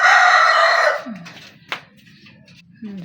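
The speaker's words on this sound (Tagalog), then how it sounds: "Sabungan sila sa kanilang kulungan. Nagdudukutan sila sa kanilang kulungan." Gamecocks in a cage: one loud crow up front, then low clucks and scuffling under a few background voices.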